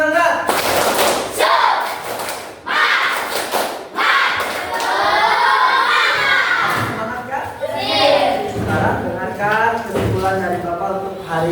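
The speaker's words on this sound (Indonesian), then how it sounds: "Tepuk semangat." Students performing the 'tepuk semangat' rhythmic clapping chant in a classroom, with bursts of clapping and thumps mixed with children's voices chanting together in a lively, loud pattern.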